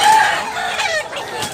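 A rooster at a market in Tabunok, Cebu, crows once in a brief, strained call, fairly loud and near, over a busy background of noise.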